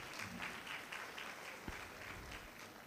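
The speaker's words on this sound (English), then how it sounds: "Shall we give him a round of applause?" Audience applause at a university congregation ceremony: steady, dense clapping from a large crowd that fills the whole stretch at an even level, with no voices heard over it.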